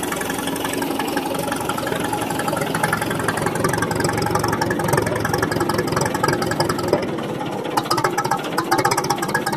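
A 1936 Caterpillar 22 crawler tractor's engine idles steadily nearby, a rough continuous chugging with a knocking rattle, loud and unbroken throughout.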